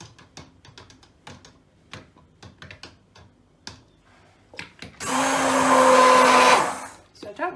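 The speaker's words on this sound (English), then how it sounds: "I'm stick blending the lye water together with the fats and the oils" An electric stick blender whirs loudly and steadily for about a second and a half, mixing lye water with fats and oils for Calico Jack soap, after quieter clicks and handling noises.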